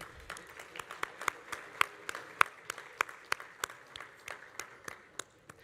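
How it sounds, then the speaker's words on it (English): Sparse audience at a forum clapping for the head tables, a thin scattering of individual claps ringing out at an uneven pace, quiet and slightly distant. "So if we could all just take a moment and give them a round of applause."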